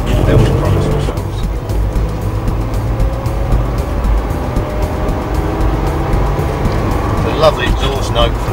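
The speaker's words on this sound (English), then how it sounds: "Lovely exhaust note from the V6 engine as well." A Ford Capri's V6 engine rumbles with a steady, low exhaust note throughout, with a car passing nearby and a voice talking over it.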